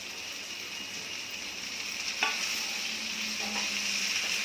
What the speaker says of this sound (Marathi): आता लसूण आणि मिरची दोन्ही पण झालेली आहे भेंडी टाकूया